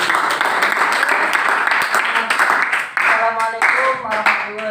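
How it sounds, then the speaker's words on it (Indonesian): An audience claps and cheers for the first group at a classroom teaching-practice session, a dense, loud, sustained burst of applause with voices mixed in. "Aplaus buat kelompok 1"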